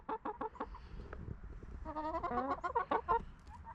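Several chickens cluck and murmur close by, a busy run of short, throaty calls that rises into a denser, overlapping chorus toward the end.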